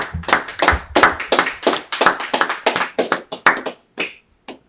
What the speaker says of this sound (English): Now, clap it up for the brother.